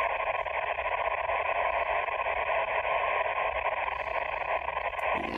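Shortwave radio reception on a Sony ICF-SW55 world receiver, a steady band of hiss and static, fairly loud and close, running continuously without interruption.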